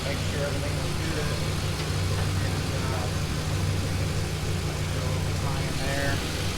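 A car engine idles steadily with a low, even hum and constant rumble throughout, close and continuous, with no breaks in the sound.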